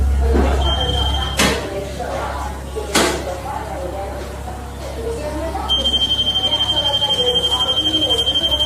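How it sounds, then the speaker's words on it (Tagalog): An electronic alarm beeps at a nursing home door, first a short tone and then a rapid repeating beep near the end, with thumps and someone talking over it. "May alarm."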